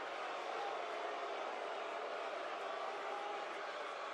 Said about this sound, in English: Are they booing Cody all of a sudden?